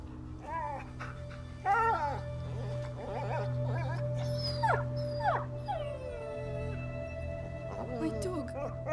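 A dog in a video game whimpers and howls in a series of high, wavering cries over a steady low background hum, fairly close and moderately loud, with no talk over it.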